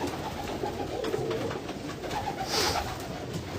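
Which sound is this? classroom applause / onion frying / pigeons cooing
pigeons cooing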